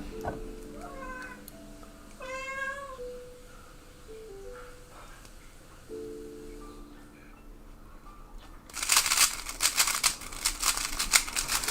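A house cat meows loudly in a string of drawn-out, wavering calls close by, followed by a burst of broadband crinkling or rustling noise toward the end.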